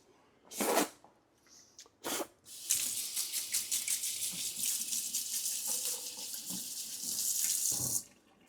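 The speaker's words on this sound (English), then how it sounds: "I always try to wash anything off that I mix up oats with, because as soon as it cools, it gets so sticky." A dish that held sticky cooked oats is rinsed under a running kitchen tap. After a couple of short bursts, the water gushes in a steady, close splashing stream for several seconds before it is shut off. No voices are heard.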